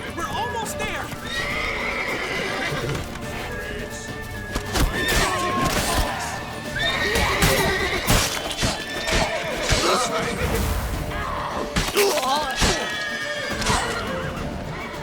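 In The Witcher 3, horses neigh and whinny loudly amid clopping hooves, crashes and shouting voices in a chaotic city chase scene.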